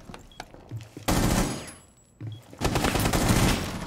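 Gunfire in the video game Rainbow Six Siege: two loud, sustained bursts of rapid shots, each lasting over a second, separated by a brief lull with faint game ambience.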